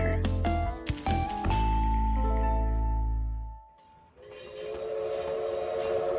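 A train sound effect, with low rumbling rail noise and several blasts of a loud horn, fading out briefly before a sustained tonal hum returns.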